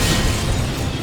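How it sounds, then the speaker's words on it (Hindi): A loud film explosion, a bomb blast in an action movie, rendered as a dense, sustained roar of broadband noise with heavy low rumble, steady and close throughout with no voices. "जैसे ही सुशी नीचे पहुंचेगी, तभी धमाका होगा।"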